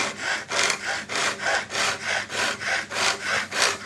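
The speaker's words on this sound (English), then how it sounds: "the side of the saw is actually running onto my thumbnail" A hand saw cutting through a piece of timber, a rhythmic series of about a dozen rasping strokes at a steady pace, close and clear with no talking.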